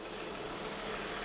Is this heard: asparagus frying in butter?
no